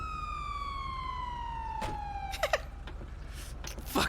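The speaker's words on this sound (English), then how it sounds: "I gotta turn the sirens off because they're gonna be really loud." Police car siren in a video game, a steady wailing tone that slides gradually lower before cutting off around the midpoint, followed by scattered clicks and short bursts of in-game noise.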